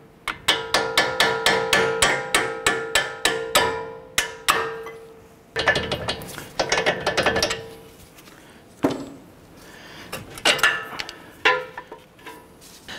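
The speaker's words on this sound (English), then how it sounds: "I'm gonna go ahead and tap these bolts out" A hammer strikes bolt heads on a 2009-2015 Honda Pilot front strut assembly in a rapid run of ringing metallic taps, then pauses and comes back in shorter bursts, loud and close with no talk.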